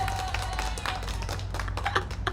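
A short, thin burst of played-back applause, with scattered claps and taps over a low hum, fairly faint and lasting only a couple of seconds.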